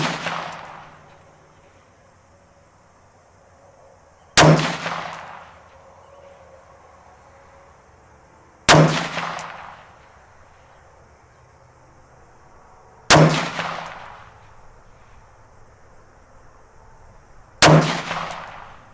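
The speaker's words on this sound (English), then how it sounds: "We're going to shoot some 5-shot groups. We've got my Hornady FMJ 55 grain reloads loaded up." Five sharp, loud rifle shots with Hornady 55 grain FMJ reloads, fired singly at even intervals of about four seconds, each ringing out briefly over quiet outdoor background.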